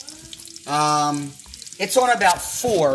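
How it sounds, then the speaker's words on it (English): Pork tenderloin sizzles in a hot pan on the stove, a steady, soft frying hiss running beneath a person's speech for most of the clip. "You can kind of hear the sizzle."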